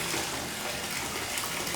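Hot water gushes steadily from a bathtub tap into the tub, a loud, constant rushing splash that fills the whole moment without pause or voices.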